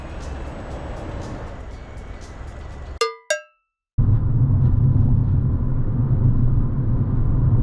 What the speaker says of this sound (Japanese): ロードノイズはまあまあしますが、耳障りな高い音のノイズはカットされています。